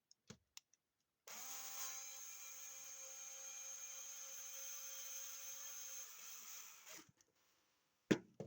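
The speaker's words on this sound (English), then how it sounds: "I have here my little drill machine." A small electric drill whirs at a steady high pitch for about six seconds, then winds down, with a few faint clicks before and after.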